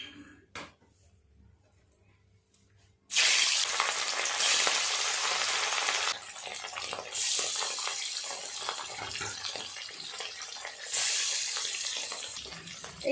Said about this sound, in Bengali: তেল গরম হলে এক এক করে মাছগুলো ভেজে নেব।